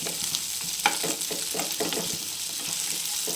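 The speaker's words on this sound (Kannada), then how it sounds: "ಇದೆಲ್ಲನೂ ಈಗ ಸಣ್ಣ ಉರಿ ಮೇಲೆ ಹುರಿಯಾಕತ್ತೇನೆ ರೀ ಇವನ್ನು" Spices, chilies and onion frying on a low flame for a raw mango sambar, with a steady soft sizzle and occasional stirring scrapes close by, and no talk.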